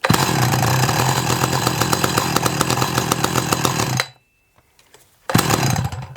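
A cheap restored chainsaw engine runs loud and close with a steady buzzing rattle for about four seconds, cuts out into near silence, then fires back up at full roar.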